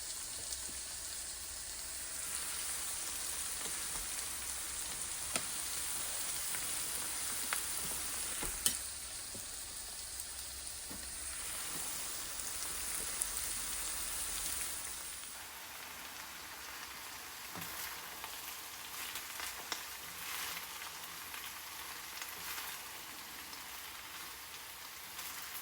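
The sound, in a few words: rice frying with vegetables in a pan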